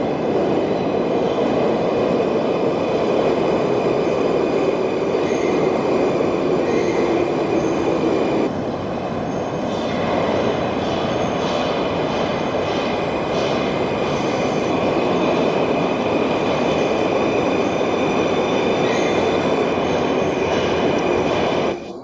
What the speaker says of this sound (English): It's the Moscow Metro.